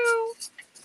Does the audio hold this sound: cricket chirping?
no